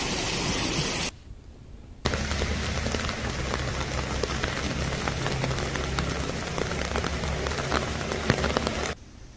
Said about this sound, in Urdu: ملک کے مختلف مقامات پر بارش کا سلسلہ جاری ہے